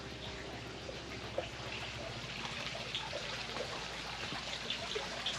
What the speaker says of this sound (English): I love the waterfalls at the fountain.